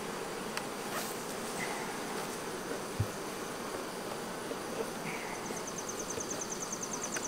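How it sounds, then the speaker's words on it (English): Honey bees swarming around the front of a deep super hive box: a continuous, fairly quiet buzzing hum of many insects, with no talking. "I got bees all over the front of this box up here."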